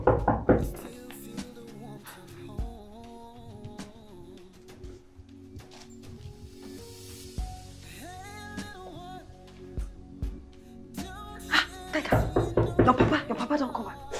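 A door is knocked on in a Nigerian family drama scene, a few scattered raps and thumps heard among voices talking and a burst of louder activity near the end.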